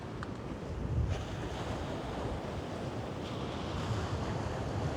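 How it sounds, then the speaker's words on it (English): Gusty easterly wind of about 15 to 29 mph blowing across the beach at Bexhill during a fishing session, a steady, close, rushing roar with surf mixed in that swells slightly near the start, with no voices. "You can see the wind's coming from behind me."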